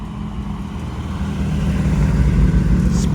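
A Porsche rolls onto a car show field with a steady, close engine rumble that grows slightly louder as it approaches over a few seconds, with no talking.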